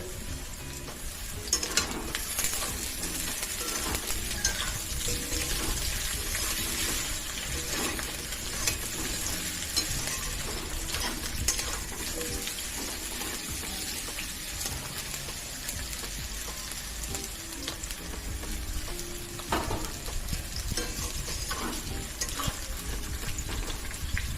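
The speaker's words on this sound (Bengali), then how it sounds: "এগুলো একটু লাল লাল করে ভেজে নিতে হবে। এবারে বেগুনগুলো দিয়ে দিচ্ছি।" Eggplant pieces fry in hot oil for a hilsa fish curry, a loud continuous close sizzle broken by frequent scraping and clattering of a spatula stirring through the pan.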